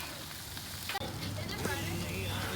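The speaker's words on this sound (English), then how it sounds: "We got so many potatoes that we're cooking here." Potatoes frying on a Blackstone griddle at a campsite give a steady sizzle, with a sharp scrape of a spatula around the middle and continued stirring afterward.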